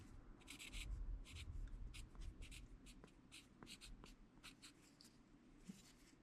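A marker scratches across an old Sawzall blade in a quick run of short, close, quiet strokes, with small taps and rubbing between them.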